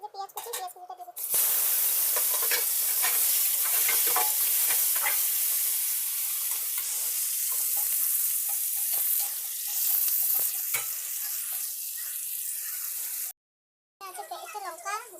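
Chopped onion dropped into hot oil in a wok already holding bay leaf and cumin sets off a loud, steady sizzle with hissing steam, broken by spatula scrapes, a short pause, and voices talking near the end.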